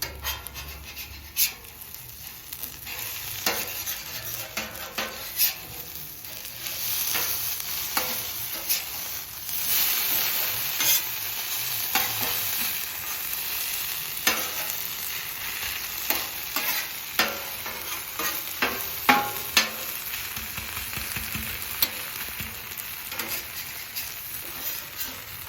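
Hash browns frying in oil and butter on a flat top grill, with a continuous crackling sizzle and frequent scraping clicks from a spatula throughout. No voices are heard.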